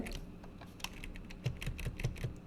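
Computer keyboard keys are pressed during a digital illustration session, giving a steady run of close, light clicking taps with a few sharper strokes near the end and no talk.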